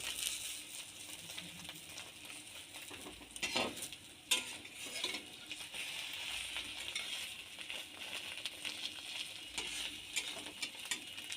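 Beaten egg frying in oil after being flipped in a pan, a faint, steady sizzle with a few brief scraping and clicking spatula sounds close by, no voices.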